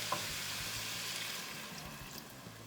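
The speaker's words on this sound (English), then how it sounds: "Now we'll add in our vegetable broth." Two cups of vegetable broth poured into a soup pot, giving a steady, close hiss and sizzle with a faint liquid wash that holds evenly throughout.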